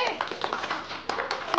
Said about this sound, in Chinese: 大家伙鼓掌欢迎